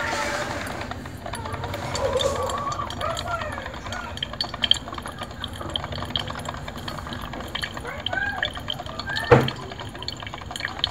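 An electric coffee maker pours hot water while brewing corn coffee, a trickling, dripping stream with soft gurgles and an occasional clink, close up and steady, with a voice talking over it.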